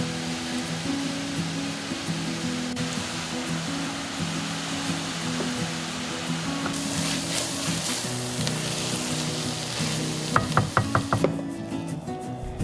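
Onions and garlic fry in a pan with a steady broadband sizzle that runs throughout, over a low hum. The sizzle brightens partway through, and a few sharp clatters come near the end.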